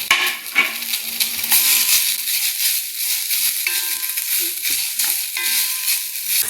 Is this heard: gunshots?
no